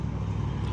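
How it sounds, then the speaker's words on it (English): Steady low rumble of road traffic close by outside a backyard vegetable garden with raised beds, a continuous engine drone with no talk over it. "sorry for the traffic noise"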